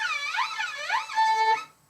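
A violin string slide, a siren-like glissando sweeping up and down on an open string, played close and clear, then settling briefly on a steady held pitch before stopping.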